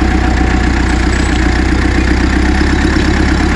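A Massey 865 tractor diesel engine runs close by, loud and steady with an even low throbbing. Its injector seal is leaking.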